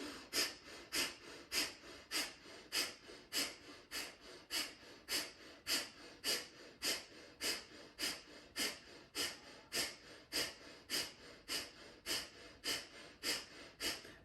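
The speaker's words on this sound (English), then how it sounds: "Then a quarter of a breath in for breath of fire." Rapid breath of fire breathing in a yoga practice, about twenty-five sharp rhythmic nasal exhales pumping in an even fast pattern, close and clear with no speech.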